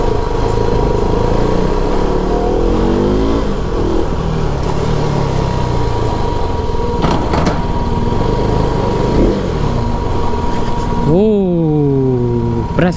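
Motorcycle engine idling and revving at a mall parking entrance, with a steady running drone and rising-falling rev sweeps near the end, close and loud amid background chatter and street noise.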